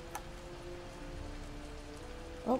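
Rain falling in a video game scene, a steady soft patter of drops heard faintly throughout, with a brief short tone near the end.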